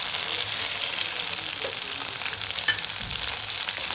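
Tomato paste and spices fry in a pan with a steady, dense sizzle that holds evenly close up for the whole stretch, with faint stirring touches underneath.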